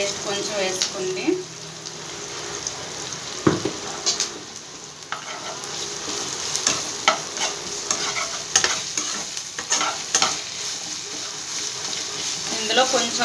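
Curry leaves and ginger garlic paste fry in a pan with green chilli, crackling and sizzling close by while a spoon scrapes and stirs in irregular bursts, with a voice speaking over it.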